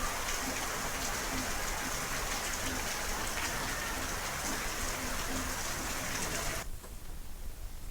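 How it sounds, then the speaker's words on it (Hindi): Heavy rain driven by wind in Aligarh, India, pours as a dense, steady hiss for the whole stretch and eases slightly near the end, with no voices. "अलीगढ़ में हवा के साथ हो रही बरसात"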